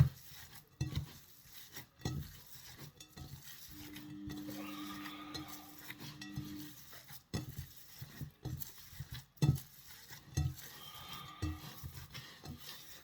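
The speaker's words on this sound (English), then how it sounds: "get your hands right in there, give it a good old mix" Bare hands work a meatball mixture of minced meat, onions and a crumbled oxo cube in a bowl, producing quiet, irregular squelches and soft pats with brief pauses between.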